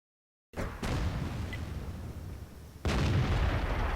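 An artillery gun in a tank video game fires after a moment of silence, giving a loud, heavy blast that rolls on, then a second powerful boom about two seconds later.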